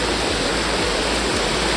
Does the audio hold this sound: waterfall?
yes